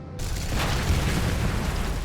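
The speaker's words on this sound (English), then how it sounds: "my missiles can go right through trees to hit my enemy" Explosion of a missile in the IL-2 Sturmovik flight combat game, a deep rumbling boom that opens after a brief quiet and sustains broad, steady roaring noise for about two seconds, with no talk.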